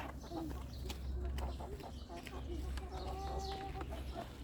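Chickens cluck steadily around a feeding spot on a small farm on their first day of being fed, close and moderately loud over a constant low rumble, with faint voices in the background.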